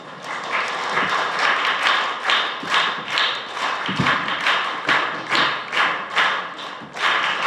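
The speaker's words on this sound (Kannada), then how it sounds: "ಈಗ ದಯವಿಟ್ಟು ಚಪ್ಪಾಳೆಯೊಂದಿಗೆ ಅವರನ್ನು ಬರಮಾಡಿಕೊಳ್ಳೋಣ." A school audience at a student government inauguration claps to welcome a student speaker, producing steady, rhythmic pulses of hand clapping that swell and fade at a regular beat, fairly close and loud.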